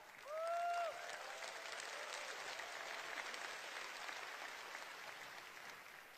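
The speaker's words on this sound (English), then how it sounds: "Give them a round of applause, guys." Applause from a convention audience, a steady wash of clapping at moderate distance, with a brief tonal chirp near the start.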